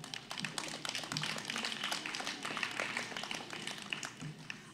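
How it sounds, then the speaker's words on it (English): Faint, distant audience clapping at a grade 9/10 spoken word poetry competition: a steady patter of many hands with no talking over it. "Applaud the poet"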